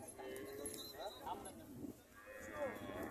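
A Friesian dairy cow being tended at a rural market moos in drawn-out calls, heard close beneath ongoing talk.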